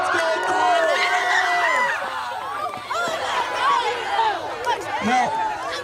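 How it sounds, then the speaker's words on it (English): Students at an outdoor middle school assembly cheer and whoop loudly for a teacher in a superhero stunt show, a dense continuous roar of young voices with shouts and laughter rising and falling throughout. "when we see Tyler coming at your teachers, make some noise!"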